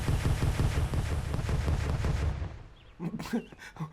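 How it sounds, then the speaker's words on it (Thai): A dense burst of rapid bomb explosions and gunfire-like blasts in a digging video game that rumbles loudly, then cuts off into a few quieter bursts. "ผมลองเอาระเบิดโยนเล่นได้ไหม"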